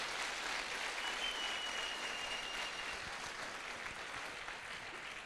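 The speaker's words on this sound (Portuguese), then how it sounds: "Você vai bater palmas, bate bem palmas para Jesus." A church audience applauds for Jesus during a sermon, a dense, continuous wash of clapping heard faintly and at a distance that fades slightly toward the end.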